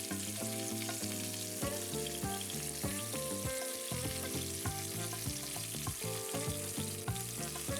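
Mushrooms sizzle and crackle steadily in hot oil in a pan on the stove, a dense continuous frying hiss heard close with no voices.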